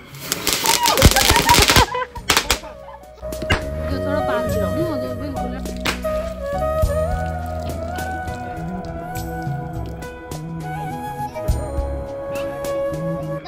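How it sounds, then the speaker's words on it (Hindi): Diwali firecrackers and anar fountains lit at a home celebration: a loud burst of crackling pops at the start, then a steady hiss and scattered crackles, with voices talking throughout. "राहुल और विया जला रहे हैं पटाखे और थोड़े अनार।"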